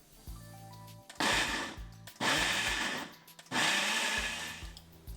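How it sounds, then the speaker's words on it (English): A kitchen blender purees tomatoes in three loud whirring bursts, each roughly a second long, with short quiet pauses between them and no talking. "we have the tomatoes in the blender and we'll go ahead and zap it down"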